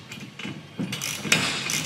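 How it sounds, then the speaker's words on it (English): An open-end wrench and socket tighten the hardware on a glider bench wheel, giving close, rhythmic ratcheting clicks and metallic turning with no talking. "I'm going to take our open-end wrench and our socket."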